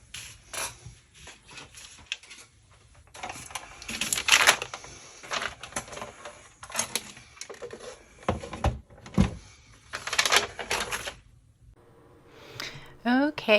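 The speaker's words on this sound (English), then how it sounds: "let me grab my big my big trimmer and get this trimmed down" A large paper trimmer cuts down a bag with bursts of sharp slicing and clacking blade strokes, separated by shuffling and handling noises, close by and uneven.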